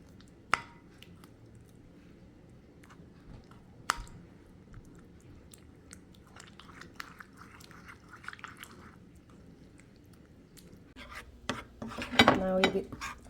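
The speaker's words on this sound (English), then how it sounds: "That we're just gonna mix and then pour in some hot water to dilute this until it becomes a nice sauce." Spoon stirring peanut sauce with pepper flakes, lime juice, soy sauce and hot water in a bowl, quiet scraping and clicking against the dish with a few sharp taps and a busier clatter near the end.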